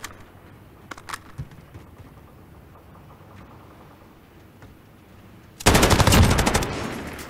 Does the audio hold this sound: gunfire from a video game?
yes